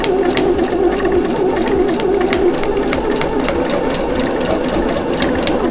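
A sewing machine stitches steadily through a thick seam step on a hooded bath cape, a loud continuous mechanical whir with rapid needle ticking that holds for the whole stretch, no talking.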